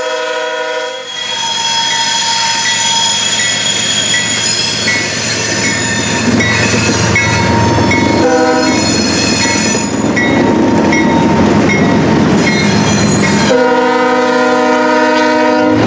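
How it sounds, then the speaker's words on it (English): A CSX intermodal and manifest freight train rolls past close by on the former B&O Willard subdivision, a continuous loud rumble and rattle of cars with wheel squeal, a long blaring horn near the start and another near the end. "The first train that we see here is a CSX intermodal and manifest train heading east on the former B&O Willard subdivision"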